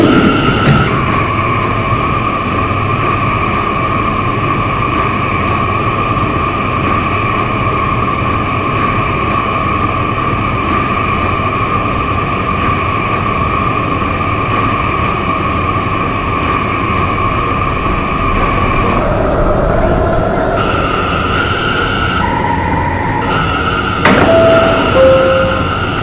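An R179 New York City subway A train rides toward Times Square-42nd St, a steady loud rumble with sustained motor whine throughout, shifting in pitch near the end as the train slows.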